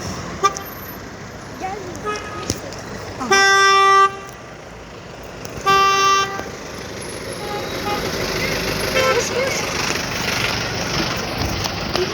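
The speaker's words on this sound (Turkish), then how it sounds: "Adam korna, kornaya basıyor geçmiyor." Two long car horn blasts sound a couple of seconds apart over steady street traffic, with people talking nearby.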